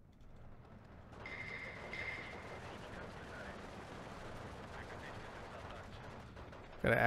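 MG34 machine gun fire in the WWII strategy game Steel Division 2, a muffled, distant rattle of bursts over a dense, rumbling battlefield background, with a sharp loud burst at the very end.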